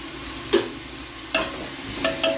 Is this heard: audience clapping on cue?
no